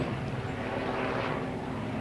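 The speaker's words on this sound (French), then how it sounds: "J'attends que l'hélicoptère passe." A helicopter passes overhead outdoors, a continuous loud rotor and engine rumble that fills the whole moment with no talk.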